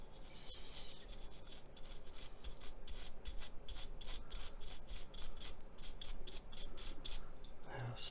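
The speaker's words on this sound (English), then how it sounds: "once we break the surface, we can start and reactivate the underlying chipping fluid" Steady, close scrubbing on the painted surface of a 1/35 scale Hasegawa Hitachi Zaxis135US excavator model, loosening paint over chipping fluid; a continuous rhythmic rasping brush-like rub with quick repeated strokes, no talk.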